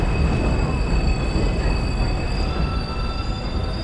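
Manhattan-bound subway train pulling into an elevated station in Astoria, Queens late at night, a loud steady roar of wheels on rails with sustained high-pitched squeals from the wheels, no voices.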